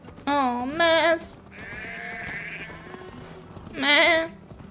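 Sheep bleat in the video game Assassin's Creed Valhalla, two close wavering calls in quick succession, then a third after a pause, over a low steady ambient bed.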